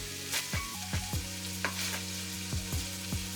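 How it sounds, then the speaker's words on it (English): Browned beef baked beans sizzle steadily in a pan while a utensil stirs them, making a few quick scrapes and clacks over the constant frying hiss. "I give it a quick stir."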